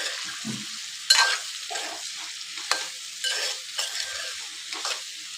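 Cauliflower with coriander powder and salt mixed and fried in oil, with repeated scraping stirs of a spoon through the pan over a soft sizzle, close by and fairly even in rhythm.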